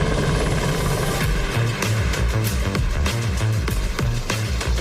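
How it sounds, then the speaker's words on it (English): A helicopter arrives, its rotor thumping in a steady rapid rhythm at close range, loud and continuous throughout. "Here's Elon Musk dropping by from a chopper."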